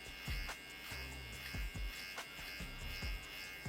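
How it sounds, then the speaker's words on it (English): A close, steady buzz from an electric beard trimmer set to a short guard length, shaving a beard downward with the grain, with the tone shifting slightly as it moves over the hair and no talking. "The reason I'm shaving downward is because I'm shaving with the grain."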